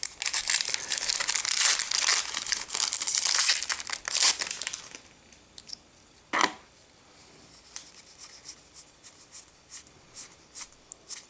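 Plastic foil wrapper of a Magic: The Gathering Khans of Tarkir booster pack crinkling and tearing open up close for several seconds, followed by quieter scattered rustles of handling.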